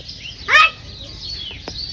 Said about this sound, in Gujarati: મોર નહીં પેલી ઢેલ છે ઢેલ